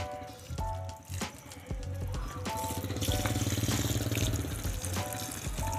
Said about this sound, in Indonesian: kita harus menyiramnya terlebih dahulu seperti ini